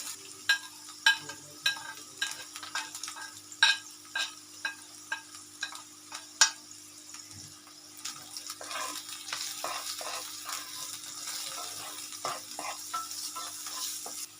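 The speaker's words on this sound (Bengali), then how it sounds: "এটাকে আমি 2-3 মিনিট নুন আর হলুদ দিয়ে একটু ভাজবো" Something frying in a pan with salt and turmeric, a steady close sizzle punctuated by a run of sharp spatula scrapes and taps, then a denser busy sizzle with softer stirring strokes; no voices.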